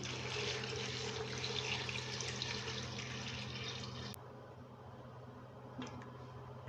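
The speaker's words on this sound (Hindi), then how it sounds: "अब मैं इसके अंदर 4 गिलास पानी ऐड कर दूंगी।" Water is poured from glasses into a pot of spiced mutton yakhni pulao with onion, garlic and ginger, a close steady splashing stream lasting about four seconds before quieting to a faint hum.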